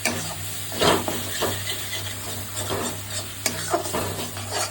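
Chicken pieces stirred into a cooked-down spice paste in a pan for a quick chicken curry, with steady sizzling and several scraping spoon strokes close by, alone without voices.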